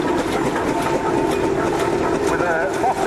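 A single-cylinder steam ploughing engine runs at a steam rally, a steady, loud mechanical chugging and hiss that fills the whole stretch while someone talks over it.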